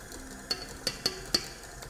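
A utensil stirs cake batter of sunflower oil and fromage blanc in a bowl, giving four sharp clinks against the bowl over a soft, steady mixing swish.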